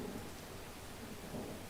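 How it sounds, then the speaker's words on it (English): Steady rain falls with a low, rumbling thunder underneath in Farming Simulator 19, a continuous soft wash of storm noise and no voices. "Thunderstorm in game."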